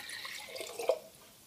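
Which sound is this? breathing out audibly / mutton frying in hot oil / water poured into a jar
water poured into a jar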